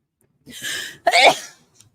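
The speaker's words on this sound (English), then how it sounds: "I'm going to sneeze." A single sharp sneeze nearby, with a short inhale followed by a loud burst, then silence.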